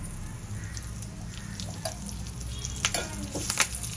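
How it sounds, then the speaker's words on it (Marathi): Mustard seeds, asafoetida and curry leaves sizzle in a spoonful of hot oil for corn thecha, a steady close frying hiss with scattered sharp pops and crackles that grow denser toward the end. "तेलावर आपण मोहरी घालूया. हिंग घालूया. त्यावर कढीपत्ता घालूया."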